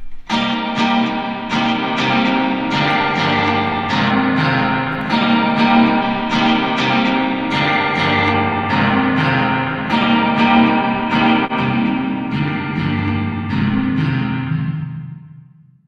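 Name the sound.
spring reverb effect from guitar amp plugin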